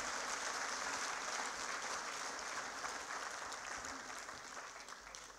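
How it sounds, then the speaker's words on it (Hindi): A crowd at an OBC Morcha BJP event applauds to welcome a speaker, steady, fairly faint clapping that gradually tapers toward the end. "जोरदार ताली बजाकर सारा ओबीसी समाज भाई साहब का स्वागत करे"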